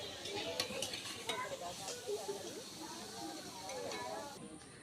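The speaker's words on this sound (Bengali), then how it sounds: "ডিম সেদ্ধ ভাজা হচ্ছে" Boiled eggs fry on an outdoor stove set up on a flooded roadside, with a soft sizzle and occasional stirring and utensil clinks beneath people talking nearby.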